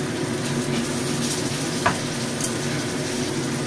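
Salted fish and a pork patty pan-fry over low heat, giving a steady, close sizzle that runs unbroken throughout with no talking.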